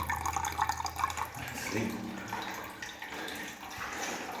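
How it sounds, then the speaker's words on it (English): A small stream of water trickles and splashes out of the rock in an old gold mine tunnel, a steady nearby gurgle with a few spoken words at the start. "A stream of water coming out of the rocks."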